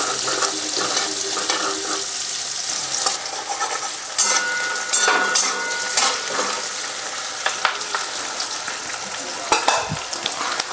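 Onions fry in hot oil, a loud sustained sizzle broken by repeated stirring scrapes and clatter of a utensil against the pan.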